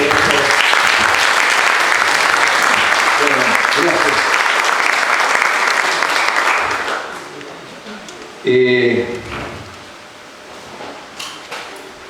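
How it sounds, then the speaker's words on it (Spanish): Audience applause greets a speaker at a mental health conference, loud and dense for about seven seconds before fading; a few scattered claps and shuffling noises follow, and a voice begins speaking. "Lo recibimos con un fuerte aplauso."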